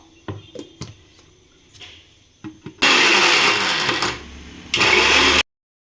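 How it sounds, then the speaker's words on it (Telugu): A mixer grinder grinds tomato pickle ingredients in two loud whirring bursts, with a short drop between them. Clinks and knocks of the jar and lid being set up come first, and the clip ends in silence. "ఇప్పుడు దీన్ని మిక్సీ పట్టేసుకుందాం."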